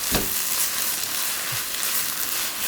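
New-season onions stir-fried in a pan, a bright constant sizzle up close with a couple of light stirring knocks.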